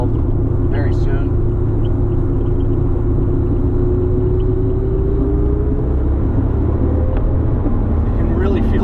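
A 1984 Maserati Biturbo pulls hard on a road drive, engine rumble building with a rising tone as the turbos spool up, heard steadily from inside the cabin.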